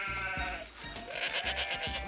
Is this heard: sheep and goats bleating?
yes